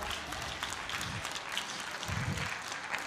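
A church congregation claps steadily for a few seconds, a dense wash of hand claps throughout, fairly loud and close, with no speech over it.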